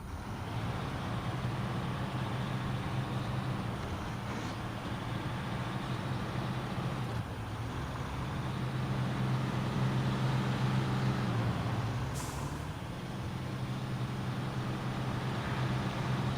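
A truck engine idling and running in SnowRunner, a continuous low rumbling drone that stays loud and steady throughout, with slight swells in intensity.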